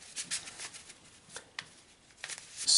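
Playing cards riffled during a tabletop football game test, with several quick bursts of shuffling and scattering spaced across the moment, close and fairly quiet.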